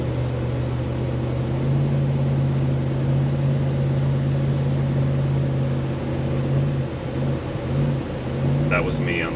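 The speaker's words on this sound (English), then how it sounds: "That was me on the throttle, just trying to create some changes here." A car engine drones steadily as the driver works the throttle, with a low humming rumble rising slightly in pitch while driving along, close and continuous, with a brief squeak near the end.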